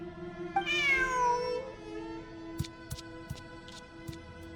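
A single drawn-out cat meow from the video game Genshin Impact rises and falls, followed by light clicks and taps over a steady low hum.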